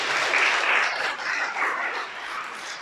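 A crowd claps steadily for about three seconds, dense and bright applause with no talking.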